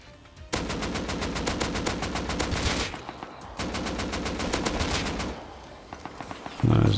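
Rapid automatic bursts from an AK rifle in the survival game Rust, loud and close, two long sustained strings of fire separated by a brief pause, followed by a few scattered single shots.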